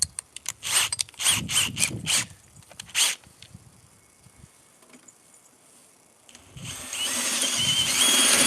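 A power drill whirs in several short bursts, close by, followed by quiet handling noises and then a steady louder mechanical rush near the end.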